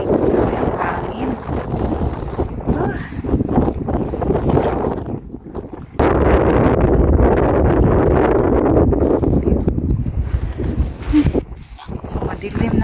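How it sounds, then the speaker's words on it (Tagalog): Strong wind gusts on a cold, snowy winter day in Germany, roaring and buffeting close to the microphone in long surges, with a brief lull midway before blasting again. "Hangin."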